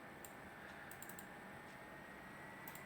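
Arrow keys on a computer keyboard tapped while adjusting a web page mock-up in Photoshop: faint, scattered clicks, a single tap, then a quick cluster of several, then another lone tap, over a steady room hiss.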